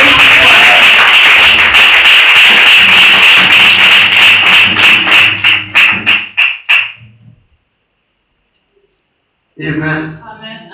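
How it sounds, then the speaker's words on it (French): Church congregation clapping in a loud, dense burst that breaks into scattered individual claps before fading to silence, followed by a voice speaking at close range. "Once again, clap for yourself this evening."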